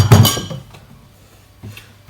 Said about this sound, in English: We're also going to need a glass for my juice.